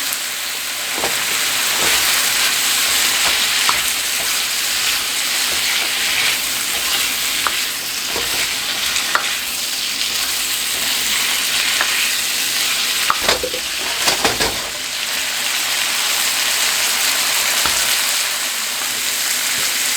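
Garlic and Spam fry in a pan for Spam and shrimp fried rice, a steady loud sizzle like rain with occasional spatula scrapes and stirring knocks, no voices over it.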